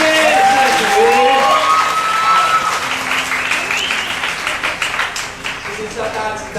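A gospel dinner gathering gives sustained applause after a personal testimony, a dense wash of clapping from a crowd with a voice speaking over it at first.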